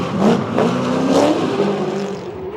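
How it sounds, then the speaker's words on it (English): A Nissan S14 drift car slides through a transition at Pukekohe raceway during a D1NZ drifting round, its engine revving steadily and loud with tire noise, no voices over it. "it was Gaz Whiter sliding through the transition out in front with a clean pass"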